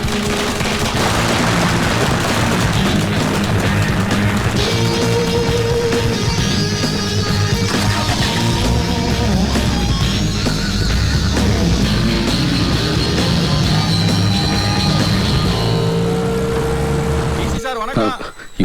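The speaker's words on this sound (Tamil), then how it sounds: "ஏய் பட்டாசம் போடுங்கடா" Dense, continuous crackling bursts of exploding firecrackers fill the scene, loud and rapid like a fusillade, with music and voices mixed underneath.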